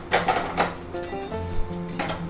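Cooked vegetables stirred into rice in a pan, with a few close metallic scrapes and taps of a spoon against the pan over a soft background hum.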